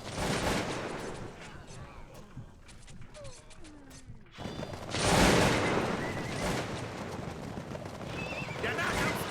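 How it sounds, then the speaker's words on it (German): Battle in Cossacks II, Napoleonic-era warfare, with crackling musket volleys and scattered gunfire mixed among horse whinnies and clip-clopping hooves, the din swelling into a louder burst partway through. "Wir stehen unter Beschuss!"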